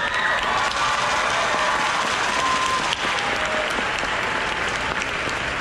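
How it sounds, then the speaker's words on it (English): Graduating seniors at a high school class of 2022 commencement applaud themselves, a dense, loud, continuous wash of many hands clapping at once, sustained for several seconds with a bit of crowd noise mixed in. "Clap it up for yourselves."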